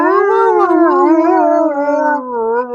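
A dog named only as a mother-in-law's pet howls in one long, wavering, loud moan that rises and falls in pitch close by, alone with no talk.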